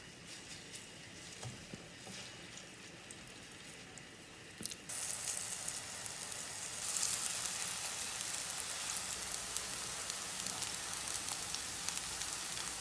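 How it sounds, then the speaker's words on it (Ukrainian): Soft, steady sizzling of cabbage vegetable patties frying in sunflower oil on low heat under a lid, growing a little louder and crackling partway through, with no voices. "І підсмажуємо їх з обох сторін на середньому такому маленькому вогні під кришкою"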